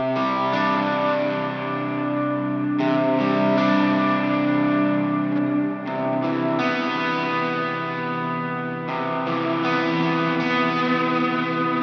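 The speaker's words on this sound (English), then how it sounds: "I'm going to replay the main guitar chords with the main guitar processing, but this time I'm going to play it as an arpeggio for the verse." Shoegaze-style electric guitar plays chords as a sustained arpeggio through heavy effects processing with distortion, chorus and echo, a dense, washing, continuous wall of sound without talk.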